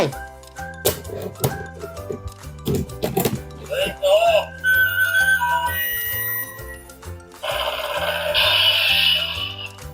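A short electronic whistle tone from the Wake Up whistle of a DX Kamen Rider Kiva transformation belt toy rings out with bright jingly effects, surrounded by excited voices talking over it.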